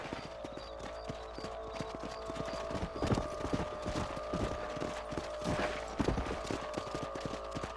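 Horse hooves clip-clop in a steady rhythm while riding on a ranch in the video game Red Dead Redemption, close and continuous over a low ambient bed.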